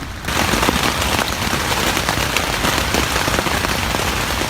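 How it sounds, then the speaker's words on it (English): Dense, steady rain pours down, a loud continuous hiss with scattered drops pattering close by. "we were awoken that night to the sound of rain"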